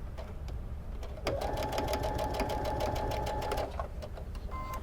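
Sewing machine stitching a mitered seam across perpendicular quilt binding strips: a steady, rapid mechanical whir with a regular needle clatter running for about two seconds, close and moderately loud over a low background hum.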